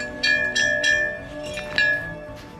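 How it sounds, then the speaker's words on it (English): A small bear warning bell on a mountain trail up Mt. Kurakake in Iwate is struck four times in an uneven rhythm, each ring bright, close and left to fade briefly. "bear warning bells here."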